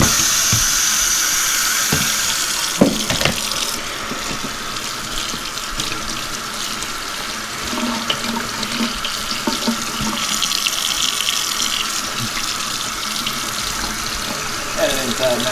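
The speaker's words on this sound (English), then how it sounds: "Head it inside now with some warm water and just start to unband it." Warm tap water runs steadily while a pleated tri-color tie-dye tee is rinsed and unbanded at a sink, a continuous broadband hiss with a few splashes and handling knocks close by.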